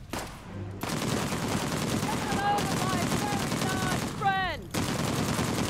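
Gunfire in the video game Uncharted 4: The Lost Legacy, dense rapid bursts of automatic shots running almost continuously at close range, with a brief quiet gap near the start and another near the end.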